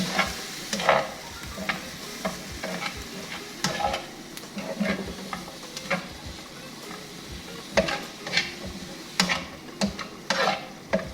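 Ingredients being stir fried in a pan while cooking Swahili biriani: steady sizzling with intermittent scraping and stirring strokes of a utensil, close and moderately loud, no talking.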